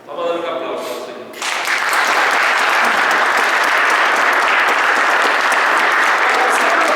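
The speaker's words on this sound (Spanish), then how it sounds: "Vamos a dar un aplauso al Señor." A church congregation breaks into loud, sustained applause for the Lord, swelling suddenly after a brief voice and holding steady, dense and close, to the end.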